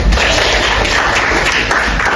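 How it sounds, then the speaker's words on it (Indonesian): A high school classroom breaks into loud, dense applause, steady clapping from many students filling the room without a pause. "Oke, tepuk tangan kita semua."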